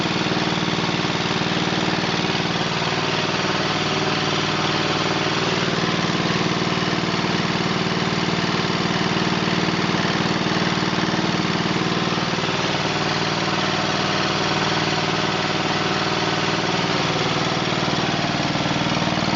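A WinPower portable generator engine runs at a steady idle throughout, a continuous close mechanical drone with even hum and no talking.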